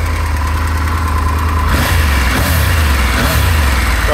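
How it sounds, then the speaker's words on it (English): A 2022 Triumph Tiger 1200 GT Pro motorcycle engine idles steadily and close by, smooth and even, with some faint clattering and shifting noises layered on top. "So engine sounds lovely, nice and smooth."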